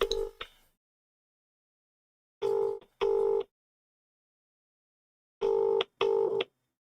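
Touch-tone beeps from a telephone being dialed come in short pairs of clean, loud tones separated by silent pauses.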